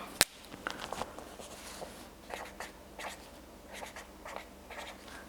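A marker scratches across the page of a monthly planner, soft short strokes in an irregular series after one sharp tap at the start, close but faint in a quiet room.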